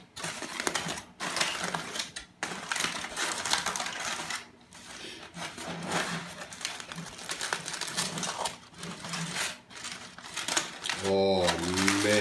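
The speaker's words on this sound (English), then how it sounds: "Now it's time for the final step, so we have to go ahead and we have to unwrap all of the ribs." Smoked ribs being unwrapped from tin foil, giving close, irregular crinkling and rustling of the foil throughout, with a person talking briefly near the end.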